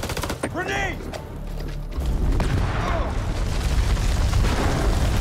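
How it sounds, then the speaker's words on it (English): A grenade goes off in the House of Ashes game, a heavy boom around the two-second mark followed by rumbling debris and a gunfire-like clatter, after a brief shouted word. "Grenade!"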